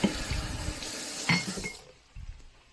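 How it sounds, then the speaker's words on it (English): Water poured into a pan of fajita vegetables to steam them, with a splashing pour and a light clink of glass or metal, ending in a quieter tail and a small knock. "So I add water, and then I usually put a lid on it to help steam them."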